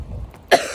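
A single short, sharp cough bursts out close to the listener after a moment of quiet breathing.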